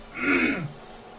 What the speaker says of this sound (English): sorry about clearing my throat again.